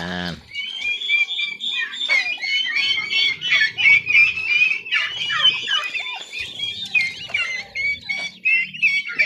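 White Holland turkey hen with her chicks, busy high peeping and clucking throughout, close and fairly loud, with low handling noises beneath.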